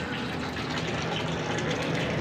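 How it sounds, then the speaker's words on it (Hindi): Hot water gushes steadily from a pipe into a heated tank or container, a continuous broadband rushing flow filling the space at constant loudness with no pauses. "अब इसके अंदर गर्म पानी आ रहा है"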